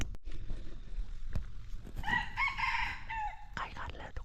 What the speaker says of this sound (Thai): ไก่ขันแล้วทุกคน